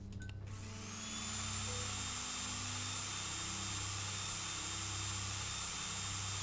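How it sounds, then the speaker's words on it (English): A drill powers up in the game Stories Untold, rising within a second into a loud, steady mechanical whine with a constant high-pitched tone and low hum that holds unbroken to the end. "Switch drill on."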